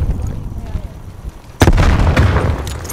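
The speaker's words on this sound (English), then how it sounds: "Throwing grenade!" A grenade in Call of Duty Black Ops Cold War on PS5, with a low background rumble before a sudden loud blast that rolls on as a heavy boom and dense crackle to the end.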